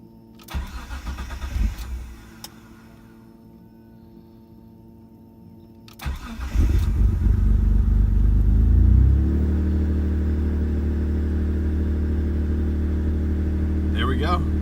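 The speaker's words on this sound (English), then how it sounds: "There we go, car starts." A Mitsubishi 3000GT running a ChromeECU base map cranks with a whirring starter, catches after a stumble, then flares and settles into a steady loud idle; someone speaks briefly beforehand.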